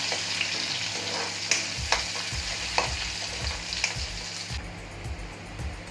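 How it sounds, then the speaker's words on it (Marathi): Finely chopped onion frying in oil in a pan with cumin, stirred, giving a steady broadband sizzle with regular soft scrapes and knocks of the stirring utensil, fairly close; no one talks. "आता आपण हा एक कांदा चिरून घेतलाय बारीक, तो कांदा टाकून घेऊ."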